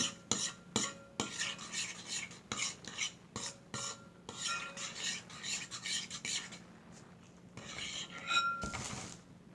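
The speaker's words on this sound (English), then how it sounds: "I like to just spoon it in over the pears so it's evenly." A spoon scrapes and clinks against a bowl while a creamy sour cream mixture is spooned over pears for mini pear pies, a quick irregular series of close metallic taps and rubs.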